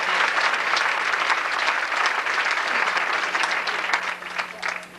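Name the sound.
applause at pageant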